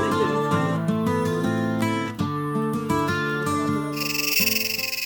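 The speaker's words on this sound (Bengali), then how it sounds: "এখানে পুরো এলাকায় এরকম টাইপের পোকার আওয়াজ সারা রাত ধরে, সারা দিন ধরে হয়েছে" Insect and frog-like calls ring out through the jungle at a Dzukou Valley camp in Nagaland, a dense, continuous chorus of loud, overlapping tonal trills and croaks with no voices.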